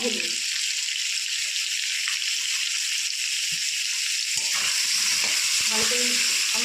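Salted potatoes frying in a pan, a loud, dense, continuous sizzle that runs throughout, with a few stirring knocks near the end.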